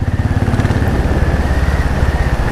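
Royal Enfield Classic 500 single-cylinder motorcycle engine pulling hard under open throttle, a loud, steady throbbing exhaust pulse heard up close with a faint whine above it and no talking.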